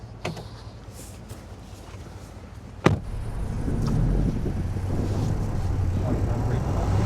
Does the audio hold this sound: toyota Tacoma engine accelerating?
yes